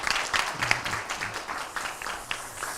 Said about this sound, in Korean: 우리 팀장님들에게 다시 한번 감사의 박수 하겠습니다.